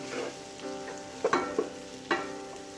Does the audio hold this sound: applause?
no